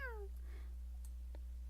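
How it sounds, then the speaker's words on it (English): A cat in the video game Luna gives a single falling meow at the start, echoing in a forest setting, followed by faint scattered game sounds over a steady low hum. "The echo of her meow was heard throughout the forest, making it sound more sinister than it should be."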